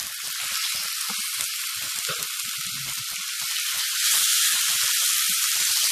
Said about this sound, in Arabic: هنزل بقى بالفراخ.